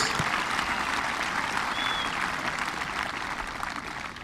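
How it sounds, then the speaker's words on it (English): Audience applause at a 2018 high school graduation ceremony, a dense, steady wash of many hands clapping that fills the whole stretch, loud and continuous, slowly easing toward the end. "let's give a big round of applause for the students with perfect attendance for 4 years."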